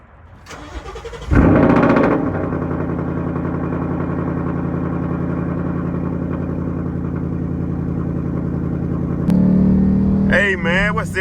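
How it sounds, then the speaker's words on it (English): A Ford Mustang turns over and fires up on a cold start, with a loud cranking catch, then settles into a steady, rumbling idle before a brief revving flare near the end. "Let me get y'all a little cold start real quick."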